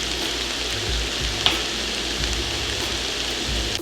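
Onions and garlic fry steadily in a pan while caramelizing for French onion soup, giving a continuous close sizzle and crackle with no voices.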